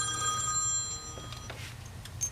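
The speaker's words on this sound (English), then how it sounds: "Sorry about the phone." A telephone rings in a workshop where a throttle body is being installed, several bright ringing bursts sounding at moderate distance over a low steady hum, with no talking.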